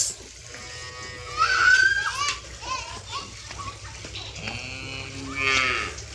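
A cow moos several times with long, drawn-out calls at a village home, while children and other voices chatter nearby.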